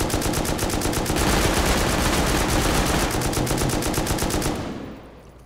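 Rapid automatic gunfire in the survival video game Rust, a loud sustained burst of fast repeated shots that runs for several seconds before cutting off abruptly.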